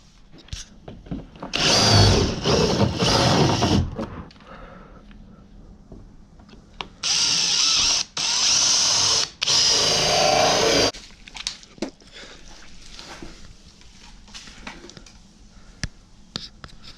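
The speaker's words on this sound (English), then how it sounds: "since it's plastic, I should be able to drill out the holes" A power drill whirs in two bursts, a short one then a longer pair of high-pitched runs, biting through a plastic car bumper with quiet pauses between.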